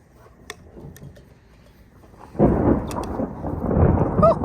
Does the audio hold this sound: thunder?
yes